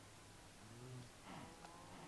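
Fluid cows from a Minecraft Project Ozone 3 modpack moo faintly in the background, two low drawn-out calls in quick succession.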